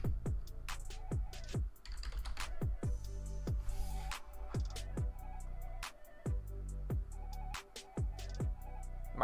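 Clattery computer keyboard typing during live stock trading comes in quick bursts of keystrokes with pauses between, close and fairly loud, alone.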